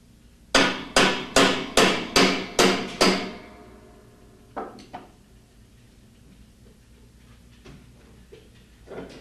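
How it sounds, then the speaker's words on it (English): A hammer strikes a hex wrench to loosen the large hub nut on a Speed Queen washer, six sharp metallic blows at an even pace, then a few lighter clanks and taps. "Remove the large hex nut using part number 306P4 hex wrench and a hammer."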